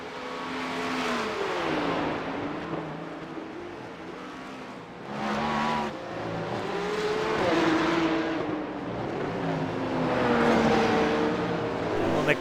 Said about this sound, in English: we've got GTPs flying by